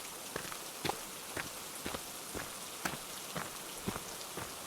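Rain falling outdoors near a house, a constant steady wash with faint regular thuds that could be footsteps in the wet, no talking.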